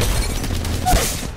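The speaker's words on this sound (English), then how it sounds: "Gonna get that grenade right in there, bro." A grenade goes off in the video game Apex Legends Mobile with a dull, muffled boom, set among a rumbling wash of game noise that stays fairly loud throughout.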